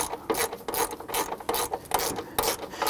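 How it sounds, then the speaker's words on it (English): Ratchet wrench clicking rapidly and repeatedly as a bolt is snugged up in the wheel well of a 2007-2014 Cadillac Escalade, a close, steady rasping series with no voices. "we're going to go back down in the wheel well area and snug up that bolt down below"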